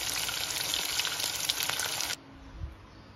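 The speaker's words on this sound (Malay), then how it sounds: "Mula kita gorengkan ikan sampai garing." Slices of Spanish mackerel sizzle loudly in hot oil, a steady bright crackle of frying until crispy that cuts off abruptly partway through, leaving near silence with a faint thump.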